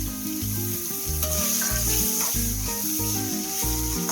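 Chopped egg whites frying with masala in oil for egg chukka, a continuous crackling sizzle with occasional stirring, heard close up beneath steady background music.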